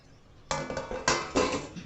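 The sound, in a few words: cake tin placed into preheated kadhai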